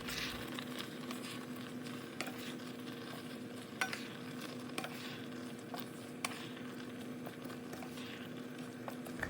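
Sardines and pechay cook in a pan with a faint, steady sizzle and scattered light clinks of stirring utensils, quiet and continuous without talk.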